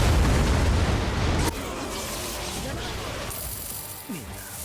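Soi Fon's soul bomb attack in the Bleach Brave Souls video game lands as a heavy, rumbling blast, then gives way to quieter scattered game effects and a faint voice.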